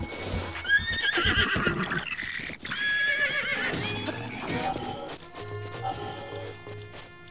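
A horse in The Legend of Zelda: Breath of the Wild gives loud repeated whinnies and neighs, with clip-clopping hooves between calls, in a busy game soundscape.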